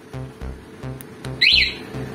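Brief electronic chirps from a motorcycle anti-theft alarm, a quick rising-falling tone standing out over rhythmic thumping background noise.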